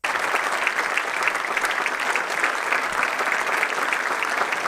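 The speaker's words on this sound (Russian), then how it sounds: "аплодисменты" Dense, steady audience applause fills the room without letup, many hands clapping at once at a constant level from start to finish.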